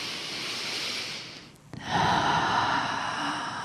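A person takes a slow, deep breath during a calm guided meditation, a long audible inhale close to the mic followed by a soft, steady exhale.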